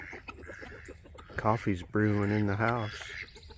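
Ducks on a homestead kept with chickens and guinea birds quack in a short burst of nasal calls close by, under and between a man's speech.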